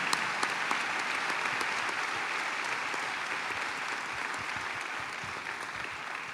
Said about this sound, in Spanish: Aplauso para esa gente.